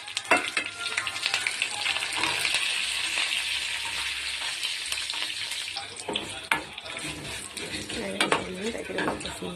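Dried red chillies and curry leaves frying in hot oil in a pan give a steady close hiss that starts at once and runs throughout, broken by stirring scrapes and small clinks of a utensil against the pan.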